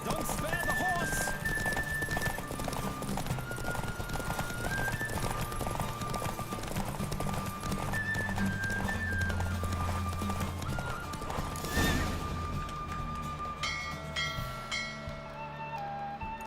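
Horse hooves galloping in a race in The Witcher 3: Wild Hunt, a continuous rapid clip-clop under game music and ambient noise, steady and close for the whole stretch.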